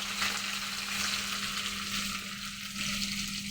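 Onions sizzling in a pan, a steady close frying hiss with faint stirring, quiet and continuous with a low hum beneath.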